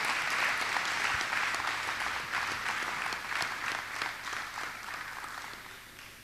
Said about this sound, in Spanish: ¿Por qué no le damos un fuerte aplauso al Señor?